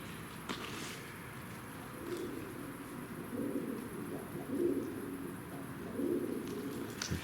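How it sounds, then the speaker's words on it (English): Doves beneath a bridge in Belgium give soft, low coos in a slow repeating pattern. They sound faint and a little distant against a steady hiss of ambient noise. "You can hear the doves. There's the doves up there."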